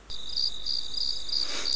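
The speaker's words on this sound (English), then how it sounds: "Cue the crickets." Cricket chirping used as a sound effect: a steady, high, pulsing trill that starts abruptly and continues evenly throughout, clear and up front with nothing else heard.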